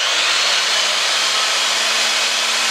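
A pipe threading machine for black gas and steam pipe runs at speed with a steady, loud, continuous motor whine and broadband hiss, a faint low hum underneath, with no talking.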